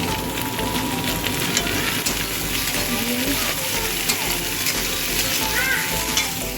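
Chicken mince sizzles steadily in a hot pan over browned onions, with occasional scraping stirs and a faint voice in the background.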